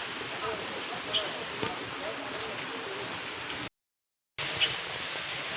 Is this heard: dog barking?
no